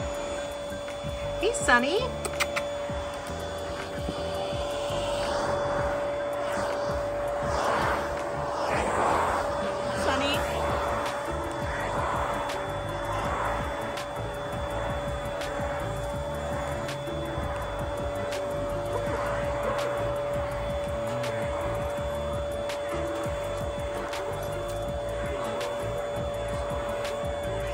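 A Yiktol dog grooming vacuum kit sucks loose dog hair into its canister with a steady, close-up motor whine and airy hiss that runs the whole time, while a person talks over it.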